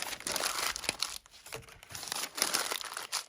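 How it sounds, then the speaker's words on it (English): Sheets of tea-stained paper crumpled into balls by hand, a close, continuous crinkling and crunching with brief pauses between squeezes and no talk. "So I'm just going to start by balling up some pages, so hopefully I get some creases in that tea stain paper."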